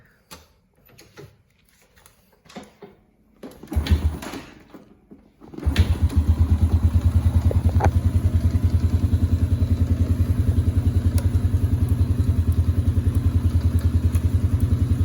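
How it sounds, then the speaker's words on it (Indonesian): A few clicks and thumps, then a 2006 Honda Supra Fit motorcycle engine fires up on the starter and settles into a steady, rapid warm-up idle that continues to the end. "karena ini motor perlu dipanasin, kita pakai quick starter aja."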